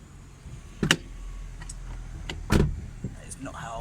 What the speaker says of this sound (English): Just thought the actual door handle would probably make a pretty decent snarey sound